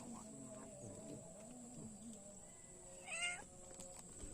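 A newborn kitten gives a short, thin meow, faint but clear against a steady outdoor hum by a fishing spot, with a few quiet voices around it.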